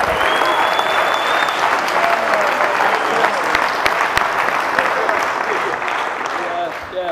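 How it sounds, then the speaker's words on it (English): Congregation applause during a sermon, a loud sustained roar of clapping from a large crowd with voices and cheers mixed in, fading slightly at the end. "Clap, clap, clap, clap, clap."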